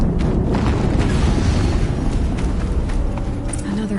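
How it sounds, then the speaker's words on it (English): A PS4 video game explosion rumbles as a heavy, sustained boom, loud and close, its deep roar rolling on for several seconds before easing slightly at the end. "Another explosion."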